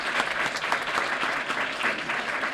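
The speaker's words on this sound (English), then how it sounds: "Give him a round of applause, please." Steady applause from an audience at a school district Wall of Fame awards ceremony, honoring an inductee, dense and sustained at moderate distance.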